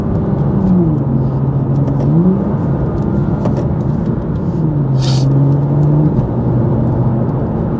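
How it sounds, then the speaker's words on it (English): A BMW M2 LCI with a Stage 2+ tune burbles and crackles through its exhaust on overrun, a loud close engine drone with pitch falling and rising as gears drop, sharp pops scattered over the rumble. "of overrun on the exhaust, so you do hear it burbling a little bit, and honestly it does sound very, very good"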